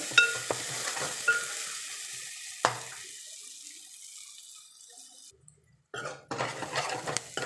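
Ginger garlic paste frying in a pan for a fenugreek-leaf chicken dish, sizzling with scraping stirs and a few sharp knocks, the sizzle dropping away for a moment before returning.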